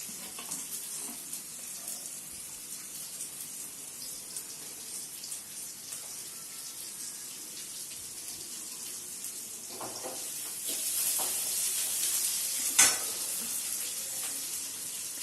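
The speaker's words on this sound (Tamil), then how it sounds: "இது மாதிரி வெங்காயம் வதங்கிறது வந்து நல்லா கோல்டன் கலரில் ஒரு பொன்னிறமாக வர வரைக்கும் நீங்கள் வெயிட் பண்ணணும்" Onions frying in a pan toward golden brown, a steady soft sizzle with a few stirring clatters and one sharp clink, close and without talk.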